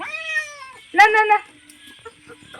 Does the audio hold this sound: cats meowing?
yes